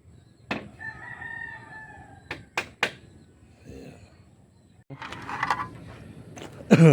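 Rooster crowing near a bamboo chicken coop and range area, one clear crow followed by sharp clucks and other fowl sounds close by.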